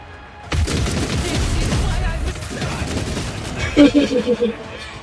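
Heavy launcher fire in the Warhammer 40,000 game Rogue Trader: loud booming volleys of blasts and crashes that roll on for several seconds, with a brief tonal burst near the end.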